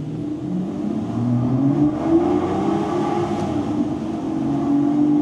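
An Aston Martin V12 Vantage S engine revs steadily through the rev range, its pitch rising and shifting, loud and close with a continuous throaty drone.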